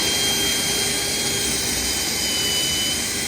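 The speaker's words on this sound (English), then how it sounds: "I got a 3-inch 80 grit sandpaper wheel on a drill." A drill spinning a 3-inch 80 grit sandpaper wheel grinds against a Honda ATV engine case to enlarge a cylinder hole, a loud, steady high whine with rough abrasive hiss, continuous and close.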